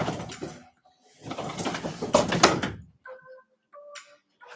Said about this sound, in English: I need my roller fixed on the door.